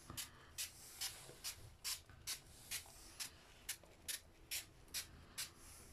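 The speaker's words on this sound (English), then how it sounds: "Both the floor, you spray it on it." Repeated short spritzes of hydrogen peroxide from a spray bottle onto a floor, about a dozen quick hissing bursts in a steady rhythm, close and fairly quiet.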